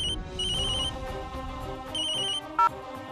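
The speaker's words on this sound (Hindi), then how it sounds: "दादाजी का फोन।" A telephone ringtone in a Hindi TV drama scene, its melodic electronic tones sounding in two repeated bursts with brief pauses between, loud and close, ending in a short bright beep.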